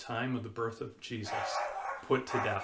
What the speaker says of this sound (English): that was our dog that just barked